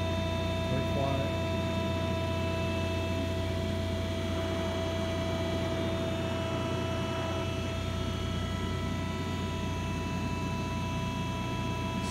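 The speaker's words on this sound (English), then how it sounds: "it's the hydraulic system running. Very quiet." Hydraulic system of a Cincinnati 175 CBII CNC press brake running, a steady, even electrical hum with tonal whine, constant and unchanging throughout.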